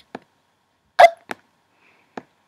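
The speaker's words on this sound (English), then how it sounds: "No hiccups, please!" Hiccup sound effects from the Animal Jam video game: a few short, clear, isolated yelps spaced apart by silence, one louder than the rest.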